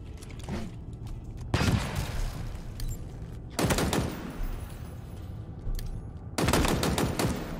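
Gunfire in the video game Halo Infinite: three loud bursts of rapid automatic shots, each lasting about two seconds, separated by quieter stretches of background game noise.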